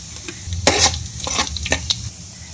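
Mustard seeds, cumin and dried chillies tempering in hot oil in a kadai, giving close crackling, popping and scraping stirs in quick uneven bursts over a soft sizzle.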